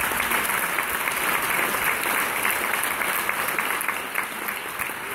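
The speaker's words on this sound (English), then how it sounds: "Just give that an applause." An audience at a science talk breaks into steady, dense applause that carries on for several seconds before easing slightly near the end.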